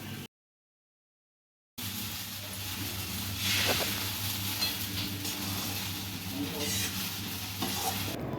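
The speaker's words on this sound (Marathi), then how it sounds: "तर खिचडी मस्तपैकी परतून घेते" Sabudana khichdi is stir-fried in a pan for a fasting meal. After a brief silent gap, a close, continuous sizzle runs on with scraping stirs.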